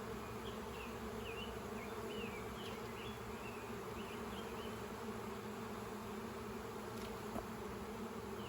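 Honey bees buzz steadily around a nuc hive used for queen cell building, a dense continuous hum with a few individual bees darting close by, no talking.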